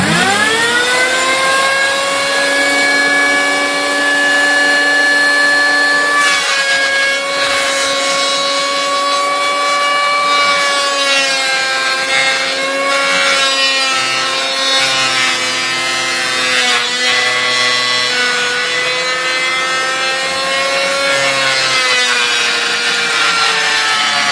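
A board runs through a wood planer, fed with push sticks, producing a loud, continuous whining roar with steady tonal harmonics that shift slightly in pitch as the cut proceeds, with no talking.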